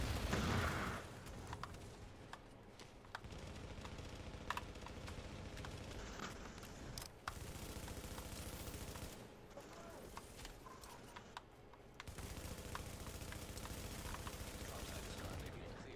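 Gunfire in the video game The Division, rapid bursts and repeated shots mixed with game effects, running under a player's talk throughout.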